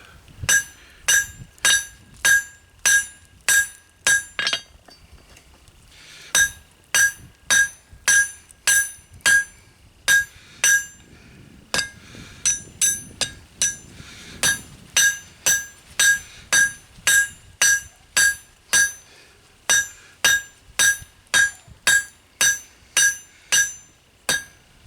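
Hand hammer forging hot steel into a spoon on an anvil: steady rhythmic ringing blows with bright metallic clinks, repeated in fast bursts with short pauses between runs, close and loud with no talk.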